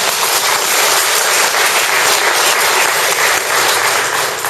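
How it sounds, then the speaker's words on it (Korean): A hall audience bursts into thanks applause, a dense, steady roar of many clapping hands that stays loud and even throughout, with no voices rising above it. "감사의 박수를 한번 해야 하겠습니다"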